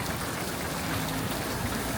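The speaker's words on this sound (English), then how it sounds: "Well, it's raining." Steady rain falls outdoors near a city bus stop in Bosnia, a dense, even hiss of drops on surfaces that continues without a break and without voices.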